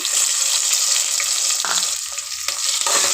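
Spices fry in hot ghee and oil in a pressure cooker while making tomato bath, a loud, steady close-up sizzle with brief dips as the mix is stirred.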